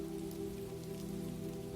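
Gentle rain falls steadily on surfaces in a calm, even wash of soft pattering drops, continuous and unbroken with no voices.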